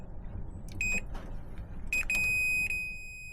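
Continuity tester on a 1950s Lansing Bagnall Model A's bare wiring gives short electronic beeps, two brief ones then a longer sustained tone, close and clear over faint background hum.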